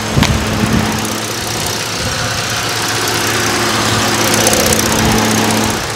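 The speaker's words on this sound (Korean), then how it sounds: "시동 걸어놨으니까 엔진 소리까지 들려드리도록 하겠습니다." A Ford New Taurus engine idles steadily and close by, a continuous low rumble with a faint steady hum throughout, with no abnormal noises.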